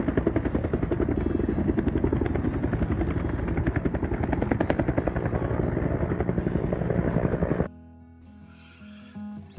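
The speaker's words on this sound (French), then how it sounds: "Parfois elle est occupée par des hélicoptères jaunes et extincteurs." A yellow firefighting helicopter passes close and loud with a steady, fast rotor chop, then the sound cuts off abruptly near the end, leaving quieter background.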